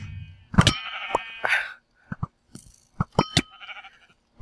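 Blocky sheep in Minecraft bleat repeatedly, loud and close, a string of short wavering baas with brief gaps between calls and no talk over them.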